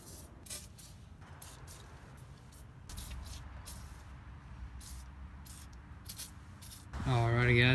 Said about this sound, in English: we're PB blasting as much stuff as we need, so later on when we're gonna be unbolting this stuff, it comes off with ease